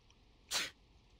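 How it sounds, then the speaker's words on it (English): A single short sneeze from a character in Persona 4, a brief, breathy burst that is fairly quiet over a faint background hum. "It was just a small sneeze."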